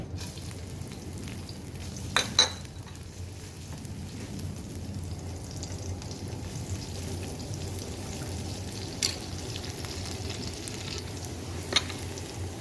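Already-fried pork stir-fried in a pan over medium heat gives a steady, dense sizzle with occasional sharp clicks of the spatula against the pan, and no voices.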